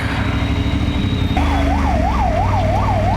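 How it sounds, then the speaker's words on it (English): An ambulance siren wails in a fast, repeating up-and-down pattern close by, over steady city traffic and engine noise in Ahmedabad, India. "let the ambulance go, guys"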